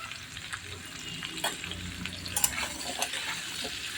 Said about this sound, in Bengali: আদাটা একটু ভেজে নিয়েছি, এবার এর মধ্যে কুমড়ো আর আলু দিয়ে দেব